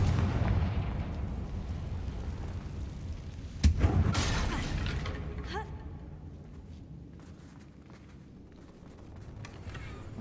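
A Confringo blasting spell in Hogwarts Legacy goes off as one sharp, loud explosive crack near the middle, followed by a short rumbling tail. Steady game ambience runs underneath the whole time.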